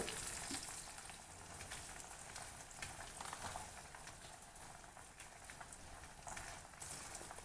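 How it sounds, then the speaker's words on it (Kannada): Cloves, red chillies, coriander seeds, chana dal and urad dal fry in hot oil with a continuous soft crackling sizzle, faint and even throughout. "ಚೆನ್ನಾಗಿ ಹುರ್ಕೊಳ್ಳೋಣ ಕಡಲೆಬೇಳೆ ಎಲ್ಲ ಕಲರ್ ಚೇಂಜ್ ಆಗಲಿ ಉದ್ದಿನ ಬೇಳೆ ಎಲ್ಲ ಅಲ್ಲಿವರೆಗೆ ಚೆನ್ನಾಗಿ ಹುರ್ಕೋಬೇಕು"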